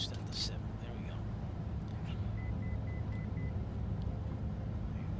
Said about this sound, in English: That's the autopilot warning about altitude, even though I'm not using autopilot.